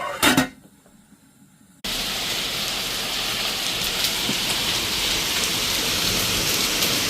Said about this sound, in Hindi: लंदन में बहुत ज़्यादा बारिश शुरू हो गई है, देखें ओले पड़ रहे हैं